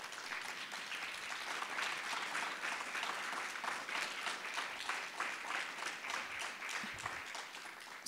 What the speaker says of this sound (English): Round of applause for Jaira.